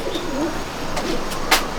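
Pigeons coo softly inside a high-flying pigeon loft in Pachgram, Murshidabad, low rolling calls repeating close by, with a brief sharp flutter or clatter near the end.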